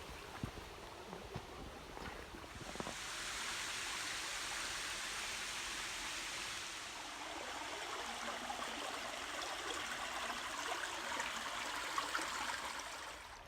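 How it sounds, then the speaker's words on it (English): Flowing stream of water rushing and burbling in a steady, moderately close wash, with a few faint knocks early on and no talking. "So we'll walk up the stream here"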